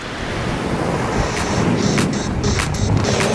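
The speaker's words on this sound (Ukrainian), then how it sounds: "вітер просто шалено шквальний" Strong gusty wind on a ski slope at Drahobrat in fog and frost, a loud continuous roar buffeting the microphone, with faint tonal whistles and ski-lift-like hums rising briefly above it.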